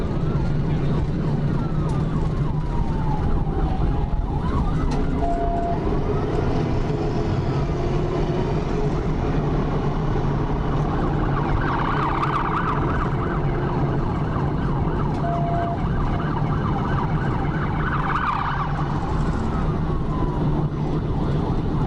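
An Arkansas State Police car siren wails during a pursuit, rising and falling sweeps repeating over a constant loud road and engine rumble, with faint talk in the background.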